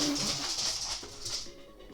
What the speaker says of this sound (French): Il y a un chien qui sort de nulle part là